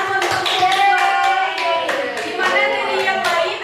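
Classroom applause during a microteaching session, many hands clapping in quick irregular bursts with voices of students mixed in.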